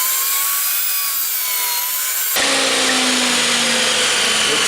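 A table saw whines steadily, then bites into a workpiece on a crosscut sled for a test cut, the tone shifting into a loud, continuous sawing roar that holds to the end.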